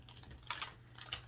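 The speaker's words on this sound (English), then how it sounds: "we're going to go ahead and shuffle the Hearts" A Hearts Oracle card deck being shuffled by hand, giving soft, quiet papery riffling with a few sharper flicks near the middle and end, with no voices over it.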